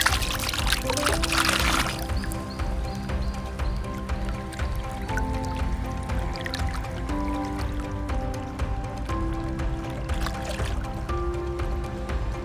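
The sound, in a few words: water pouring while filling water bladders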